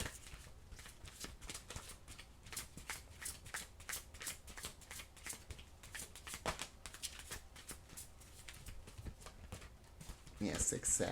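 Tarot cards shuffled in a steady rhythmic riffle, close and fairly quiet, continuing for several seconds with a louder flurry near the end.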